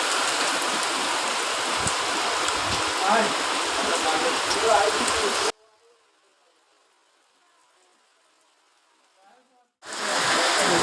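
Steady heavy rain roars close by for about five seconds, then cuts to near silence, and the downpour returns abruptly at the end.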